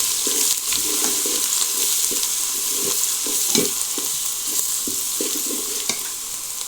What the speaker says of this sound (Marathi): आणि व्यवस्थित तेलामध्ये भाजून घेणार आहे